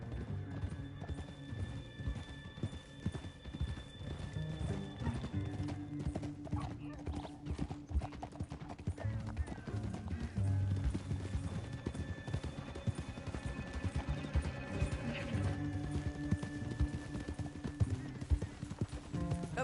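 Horses' hooves clip-clop through a western canyon scene, a steady trotting rhythm under dramatic music with occasional whinnies, and a voice speaks over it.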